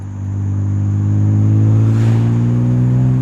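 Deep, loud exhaust note of a BMW M3 with an axle-back exhaust, building steadily as the car accelerates, close and continuous with a rising drone and no voices.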